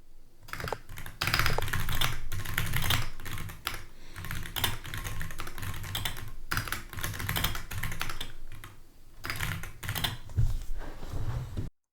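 Fast typing on a computer keyboard during a typing speed challenge, a dense and continuous clatter of keystrokes with brief pauses, close and fairly loud for about twelve seconds, with no voices.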